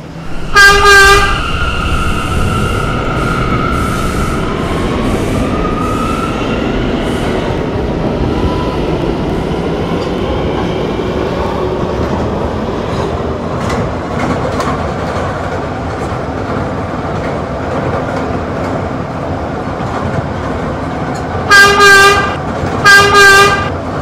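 A New York subway K train rumbles steadily along the tracks, with brief horn-like tones at the start and end over the continuous roar.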